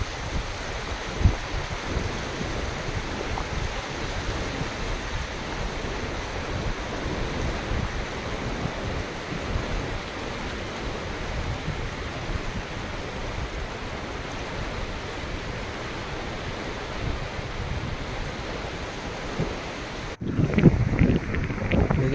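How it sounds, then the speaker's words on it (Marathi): A river flows along a roadside near Umra Phata on the Vasmat–Nanded route, a steady broad rush of water with wind buffeting the microphone, ending in a brief louder disturbance. "नदी बघा कशी आहे आणि पाण्याचा आवाज बघा कसा आहे"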